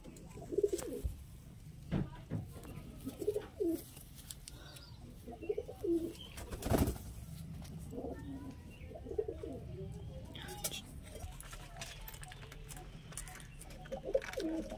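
Pigeons coo in low, soft, repeated throaty bursts at a pigeon sale, several calls spaced across the stretch, with faint rustling and background noise.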